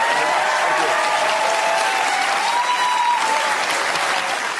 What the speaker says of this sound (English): a round of applause for Pete Hellier